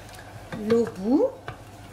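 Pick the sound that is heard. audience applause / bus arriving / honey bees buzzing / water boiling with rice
water boiling with rice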